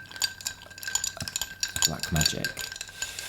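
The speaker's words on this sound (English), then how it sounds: "I think sometimes people over stir drinks." A dirty martini is stirred in a glass, with a spoon clinking and scraping rhythmically against the ice and glass in quick light ticks while someone speaks briefly.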